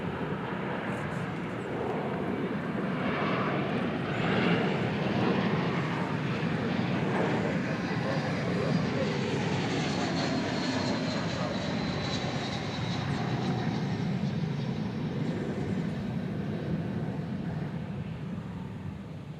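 An airliner takes off at DFW Airport, a loud sustained jet engine roar holding steady and slowly fading, with faint talk in the background.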